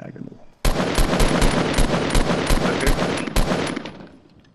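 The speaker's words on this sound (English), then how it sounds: "are you shooting someone?" Video game gunfire, a sudden burst of rapid automatic shots in a fast, steady rhythm lasting about three seconds, loud and up front before tapering off.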